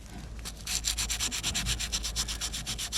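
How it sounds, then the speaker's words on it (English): Rust is scraped off the wheel hub of a Ford Transit Mk7 during a front wheel bearing change, in a fast, even run of rasping strokes, close and loud, with no talk. "Clear this as much loose rust as I can."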